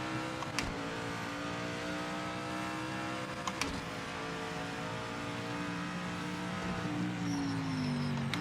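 A race car in a racing video game drones along at steady throttle, its engine tone holding level and then sliding lower near the end, with a couple of faint sharp clicks.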